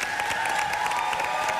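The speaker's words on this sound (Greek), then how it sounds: "Τα παιδιά, ένα θερμό χειροκρότημα." Studio audience at a Greek game show breaks into warm applause for a couple reaching the final, a steady dense wash of clapping that fills the whole short stretch at a moderate, even level.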